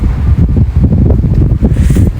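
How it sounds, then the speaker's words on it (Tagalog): Strong wind roars and buffets the microphone in steady low gusts outdoors at night, loud and close, with a faint hiss above. "Ang lakas ng hangin ngayon dito"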